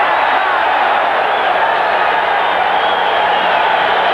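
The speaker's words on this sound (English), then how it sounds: "Final seconds of round 1 as the crowd comes alive." A boxing arena crowd roars steadily and loudly as a round nears its end in the Felix Trinidad versus Maurice Blocker fight, a dense continuous wall of cheering with a commentator's voice faintly underneath.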